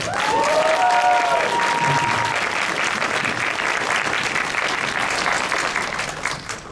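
Steady applause from a crowd at an Anime Expo panel, loud and sustained, with a few cheers or whistles near the start before gradually tapering off.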